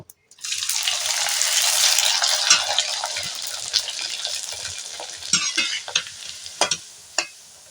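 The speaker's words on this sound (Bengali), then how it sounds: "এইভাবে আমি কয়েকটা পাঁপড় ভাজবো" Raw rice papad frying in hot oil, a bright crackling sizzle that bursts in loudly as the papad hits the oil, then thins into scattered pops and faint hissing over the following seconds.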